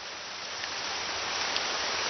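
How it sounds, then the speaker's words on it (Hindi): Rain falling in a Doraemon cartoon, a steady dense hiss of downpour, moderately loud and unbroken throughout with no voices. "बारिश।"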